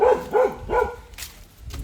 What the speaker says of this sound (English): Dom Davino, what are you barking at?